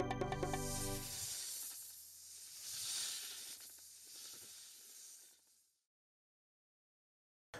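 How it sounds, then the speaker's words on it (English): A snake hisses in a children's animal guessing game, a loud breathy hiss that swells and fades over about five seconds before cutting to silence. "Snake."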